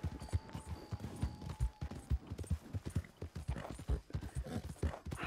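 Steady clip-clopping hooves of a horse ridden in Red Dead Redemption 2, a close, even trotting rhythm that carries on alone throughout with a faint musical tone in the background.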